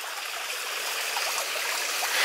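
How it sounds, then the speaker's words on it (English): The River Axe flows through open countryside with a steady, even rush of water that carries on without a break and with no talking. "This is the River Axe, I reckon it is."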